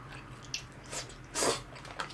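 Someone eating Lawson convenience store food, with soft bites and crunchy chewing that come in short bursts, close and quiet, with a louder crunch midway.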